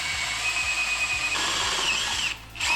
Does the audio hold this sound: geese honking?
no